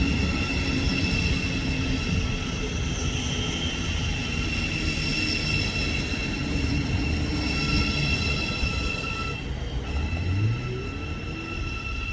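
A Thameslink Class 700 electric train pulls out of Hitchin station on the East Coast Main Line, a steady loud rumble and whine of motors and wheels throughout with a faint wheel squeal near the end and no talking.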